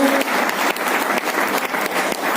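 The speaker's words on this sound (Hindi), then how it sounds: "करताली स्वागत करूँ" An audience applauds to welcome a national general secretary onto the stage at a PROUT national conference, a dense, steady wash of clapping lasting throughout, with a brief tonal ring at the very start.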